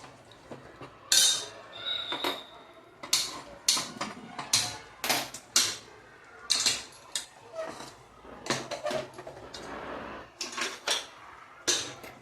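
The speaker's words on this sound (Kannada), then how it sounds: "ಸ್ವಲ್ಪ ಚಮಚೆಯಿಂದ ಕೈ ಆಡಿಸ್ಬೇಕು ರೀ" A metal spoon stirs chicken in a pan, giving bright, rapid clinks and scrapes in irregular bursts, close and fairly loud with short pauses between strokes.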